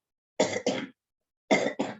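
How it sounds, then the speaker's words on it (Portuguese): Two pairs of sharp, harsh coughs from a man with bronchitis, close to the listener, each pair a quick double cough, separated by a second of silence. "desculpe, eu estou com a tosse"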